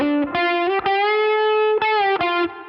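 An electric guitar played through a Movvall Jumpspace overdrive pedal set as a quieter rock-amp distortion with chorus rings out in sustained, bright, buzzy notes separated by short picked attacks, loud and alone.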